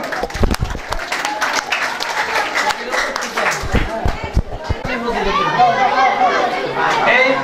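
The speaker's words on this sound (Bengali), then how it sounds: "জোরে হাততালি হবে ফজিলতের জন্য জোরে" An audience at an SSC 2024 school gift ceremony claps loudly for Fazilat, with a bright wash of applause swelling over crowd chatter and someone talking nearby.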